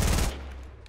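A short burst of rapid compact SMG fire in Fortnite Battle Royale, loud and close, cutting off after about a third of a second into a fading tail.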